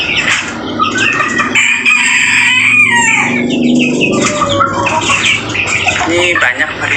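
Polish chickens on a poultry farm cluck and crow up close, with loud overlapping calls, drawn-out crows and busy clucking filling the whole stretch, with voices mixed into the flock noise.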